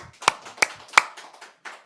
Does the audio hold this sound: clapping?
yes